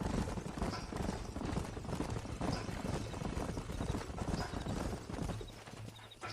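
Horses' hooves clip-clop in steady overlapping rhythm as a group of riders moves along in the video game Red Dead Redemption, close and continuous with faint tack jingles.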